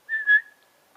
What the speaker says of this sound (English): I can't whistle all that well.